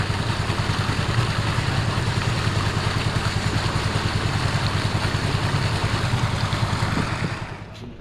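An irrigation water pump's engine runs steadily up close, a loud rhythmic chugging clatter that holds even for several seconds before it is shut off and winds down.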